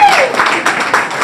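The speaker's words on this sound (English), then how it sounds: "Round of applause" Brief loud audience applause at a women-in-sports-and-finance event during Super Bowl LX week: a crowd claps in a dense burst, with a voice briefly audible at the start.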